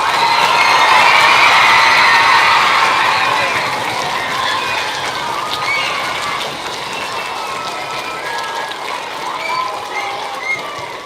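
A school audience at a Veterans Day program cheers and applauds for veterans, with children's shouts and steady clapping loud at first and then easing slightly while the crowd noise continues throughout.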